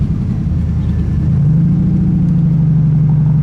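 A 1957 Devin S kit car with a Buick 215 aluminum V8 rumbles close and loud, idling low and then revving into a steady, smooth higher drone, with no talk.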